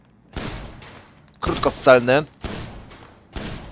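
Pistol shots at a shooting range in GTA 5, a few sharp separate reports spaced about a second apart, with a longer metallic ringing burst in the middle; no talking over them.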